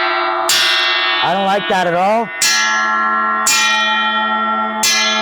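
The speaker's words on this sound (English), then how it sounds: "Let's see what it sounds like with a xylophone hard mallet." A cheap gong struck with a hard xylophone mallet rings out three times, each hit a bright, sustained bell-like tone, with a short spoken remark between the first and second strikes.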